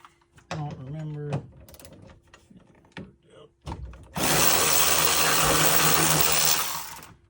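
A socket wrench ratchets rapidly and loudly on a 3rd-generation Toyota Tacoma cab vent for a few seconds, after scattered clicks and knocks of the part being fitted, with someone talking briefly before.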